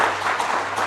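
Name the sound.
audience applause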